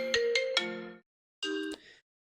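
A mobile phone ringtone plays two short bursts of bright electronic melody with a pause between them, clear and close, no talking over it.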